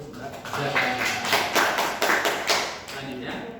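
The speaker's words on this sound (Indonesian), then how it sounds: "tepuk tangan untuk Mbak" A small group of students claps for a classmate in a classroom group guidance session, a brief scatter of hand claps that comes in uneven bursts, with voices in the background.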